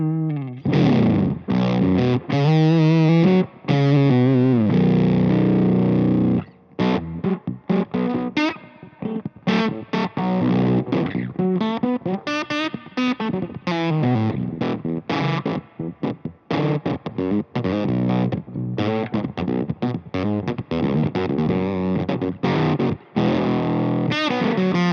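Electric guitar played through an Octaland octave pedal on a clean setting, a busy run of melodic lines with a doubled, slightly chorused octave tone, loud and continuous for the whole stretch with no talking.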